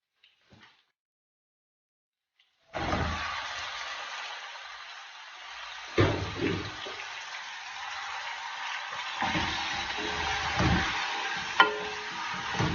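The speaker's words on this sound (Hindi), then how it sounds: "अब मैं इसमें चिकन ऐड कर दूंगी।" Chicken going into hot oil with ginger garlic paste: near silence, then a sudden loud hiss of sizzling that carries on with a few clunks and stirring knocks.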